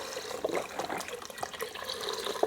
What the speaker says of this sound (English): now we're gonna add our 1 quart, 4 cups of beef broth.